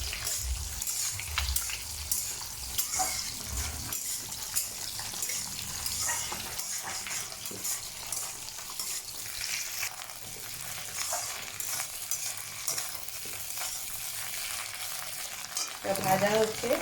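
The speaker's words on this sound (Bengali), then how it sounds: "আর ওইদিকে তোমরা দেখো মাছ ভাজা হচ্ছে।" Rohu fish pieces fry in hot oil in a pan, giving a continuous close sizzle with occasional clinks and stirring noises and no talking.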